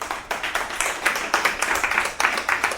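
Church congregation at a wedding service clapping together, a fairly steady run of overlapping handclaps with rhythmic surges, moderately loud and unbroken.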